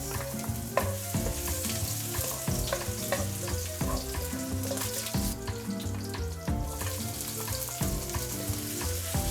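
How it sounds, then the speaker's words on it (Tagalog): Garlic and onion sautéing in hot olive oil, a loud continuous sizzle and crackle with rhythmic stirring scrapes throughout, close up and without speech. "Pag mainit na yung mantika, igisa mo na yung bawang at sibuyas."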